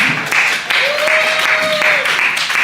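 An audience claps and cheers for a guest brought up on stage, with a steady wash of applause under a long sustained tone and some overlapping voices.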